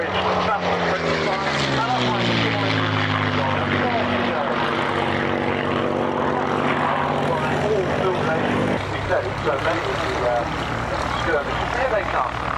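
A Messerschmitt Bf 109 Gustav and a Spitfire make a low pass at an Army Air Corps airshow at Middle Wallop, their piston engines droning loudly with shifting, sweeping pitch that drops sharply near the end, a commentator talking throughout.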